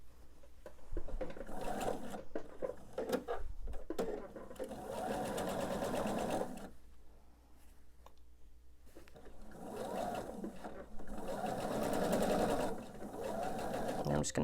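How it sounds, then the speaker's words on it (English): A sewing machine runs steadily along the length of a quilt block seam for a cuppa tea sampler quilt, in two long close bursts of motor whir and needle chatter separated by a short pause. "I can go ahead and sew the length of this seam."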